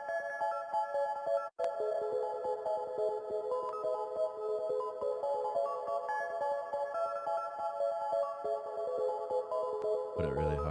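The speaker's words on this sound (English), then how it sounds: "I put another ARP, and it just plays the main chord progression." A bright arpeggiated synth steadily plays the main chord progression of a classic jugg-style beat, quick repeating notes sitting high in the mix, ending with a brief burst of fuller sound.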